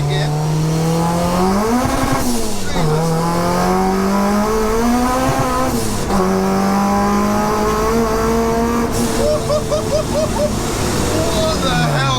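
A supercharged, K-swapped Honda Civic coupe time-attack car pulls hard in second gear. Its loud, close engine note climbs steadily and dips at each shift, with a whining supercharger over the rising drone.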